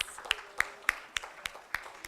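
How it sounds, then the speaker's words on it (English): Sparse, quiet clapping at a Samavesh 2018 marketing conclave, a handful of sharp, evenly spaced claps in a slow rhythm rather than full crowd applause. "Guys, please give them a big round of applause."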